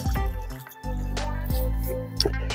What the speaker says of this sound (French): j'arrose un petit peu pour bien humidifier le pied